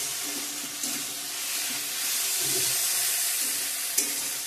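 Pointed gourd (potol) frying in a pan, a steady close sizzle with soft stirring knocks and a sharp clink near the end.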